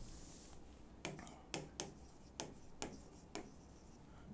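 Pen writing production figures on paper, a quiet series of about seven short scratchy strokes at an uneven rhythm, close and alone.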